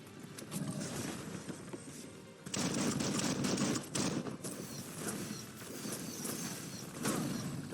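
Rapid, dense gunfire crackles almost without pause in the video game Biomutant, with bursts that swell and fade over a continuous loud bed of combat noise.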